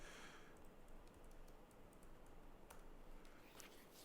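Computer keyboard being typed on, with quick, irregular soft key clicks at close range, faint but steady and uninterrupted by talk.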